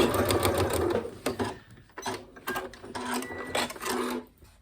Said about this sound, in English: And I'm going to do a little back stitch.